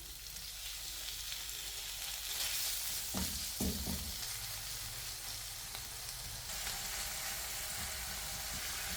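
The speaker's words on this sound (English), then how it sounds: "On this part of my pan, I'm going to put the bacon." Garlic, chili and bacon frying together in a pan while cooking peri peri chicken livers produce a dense, loud hiss with a couple of stirring knocks midway, close and without talk.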